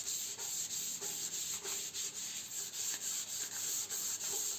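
Hand sanding on a 1950 Triumph Thunderbird motorcycle fuel tank, a close, rhythmic rasp of back-and-forth strokes at a steady pace, roughly three per second, with no talking.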